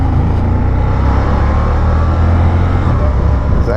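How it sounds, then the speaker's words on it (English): Can-Am Spyder GS SE5 engine blips during a downshift while riding, a loud continuous motor drone with a brief rise in revs, steady and close throughout. "She's getting the blip on the downshift."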